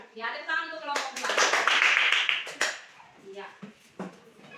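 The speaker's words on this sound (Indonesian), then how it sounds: "tepuk tangan untuk kelompok dua" Students in a classroom clap for group two, a short burst of scattered hand claps swelling and fading, with speech before and after it.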